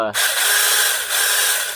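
Alloyman 20V 6-inch cordless mini chainsaw motor spinning up almost instantly to a loud, steady high-pitched whine that holds alone for under two seconds.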